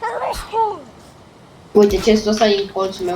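A single sharp sneeze from a player in a Valheim game session, near and loud, with people talking around it.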